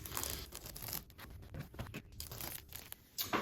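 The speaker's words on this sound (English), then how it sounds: "So now I'm just going to carefully remove the tape so that it doesn't dry on the" Adhesive tape is peeled off a model railway layout freshly painted as tarmac, giving close, quiet crackling tearing noises in short irregular bursts.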